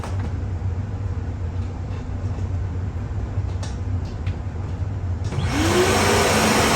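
A DEWALT 5-gallon 4 HP Stealthsonic wet/dry shop vacuum runs with a steady low hum and airy whoosh, close by, then surges louder and brighter toward the end.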